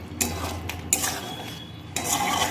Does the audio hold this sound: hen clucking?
no